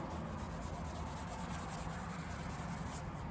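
Hand sanding of a rusted car body with a 320 grit sanding pad, a steady close rubbing and scraping that continues evenly without pause, with no talk.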